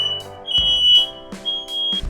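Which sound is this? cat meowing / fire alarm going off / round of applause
fire alarm going off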